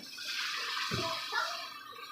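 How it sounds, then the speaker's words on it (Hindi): Water splashed into potatoes frying in masala in a pan for a Pakistani-style potato and egg curry, giving a short burst of sizzle and hiss around the middle of the clip before the steady frying noise settles again. "अब हल्का सा पानी का छींटा लगाएंगे इसके अंदर।"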